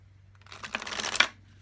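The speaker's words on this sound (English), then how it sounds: "This is a newer deck, so it's a little bit sticky still when shuffling." A newer deck of playing cards with a slightly sticky finish riffled once, a short close flutter of cards swelling and ending in a soft snap as they settle together.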